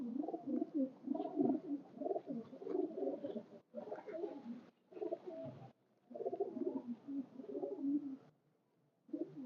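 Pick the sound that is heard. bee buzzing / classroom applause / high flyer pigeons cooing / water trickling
high flyer pigeons cooing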